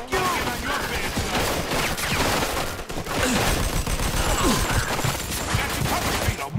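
Sustained gunfire in the Mafia II game, a dense fusillade of rapid overlapping shots and machine-gun bursts throughout, loud and close, with voices shouting over it.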